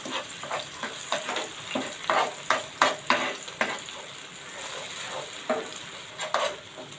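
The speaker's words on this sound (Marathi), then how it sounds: "आला, लसूण आणि मिरचीची पेस्ट तेलावर जरा हलकी परतून घ्यायची।" Ginger, garlic and green chili paste frying in hot oil in a pan while being stirred: a steady sizzle with repeated scraping strokes of the spoon, louder in the middle and quieter near the end, with no voices.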